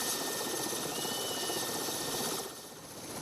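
A helicopter flies over the Nenets tundra carrying parcels for deer breeders, a steady loud rotor and engine roar that holds for a few seconds and then eases off a little toward the end.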